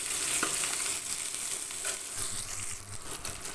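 Small shallots sauté in a pan, giving a soft continuous sizzle with occasional stirring scrapes and light crackles, fairly quiet and close, with no talking.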